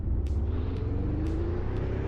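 A racing car engine in the Assetto Corsa driving simulator, played on a DIY sim rig, hums as a steady low rumble throughout, with a few faint clicks on top and no talk.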